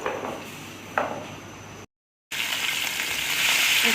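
Garlic and ginger frying in oil for chicken chow mein give a steady, close sizzling hiss with a soft stir near the start, broken by a brief silent gap before the sizzle returns louder.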